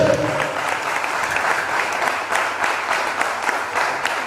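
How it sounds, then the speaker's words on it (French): Audience applause at a Beninese intercession gathering honoring an NGO: a dense, steady wash of many hands clapping, loud and continuous, with a brief voice at the very start. "Je vous applaudis très très fort cette ONG"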